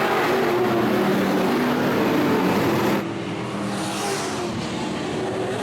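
Modified race cars lap a dirt oval in Lakeport, California, their engines producing a loud, continuous roar that drops off abruptly partway through as the cars pull away, with no voices over it.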